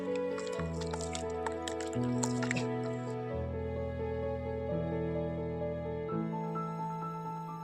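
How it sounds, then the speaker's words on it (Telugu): Cow dung mixed with water is poured into a drum already holding neem leaf paste and cow urine for a farm spray brew, a steady close gurgling pour whose pitch shifts as it fills. "ఆవు పేడని నీటిలో కలుపుకొని అందులో వేసుకోవాలి."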